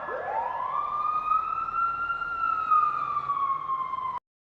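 A fire engine siren gives one long rising and then slowly falling wail. It is loud and close, plays alone and cuts off sharply at the end.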